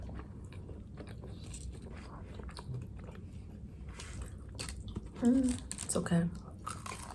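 Someone bites into and chews a cheesy potato bite during a food tasting in Paris, giving a short crunchy, squishy burst near the mic about two thirds of the way through, with quiet chatter and speech around it.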